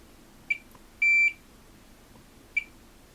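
Electronic beeps from a multimeter during a USB-C charging port repair on a Huawei D14/D15 laptop: a short chirp, one longer steady tone, then another short chirp, clear against a quiet room.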